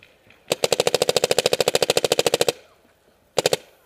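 A paintball marker, an Etek3 LT, fires a rapid string of around twenty loud, evenly spaced shots during a woodsball game in the woods, then pauses before a short burst of three or four more, close by with no talking.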